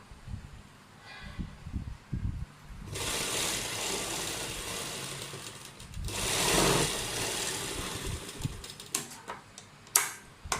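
A sewing machine stitches piping onto a kurta, running in two longer steady whirring stretches between short tapping bursts, close but fairly quiet.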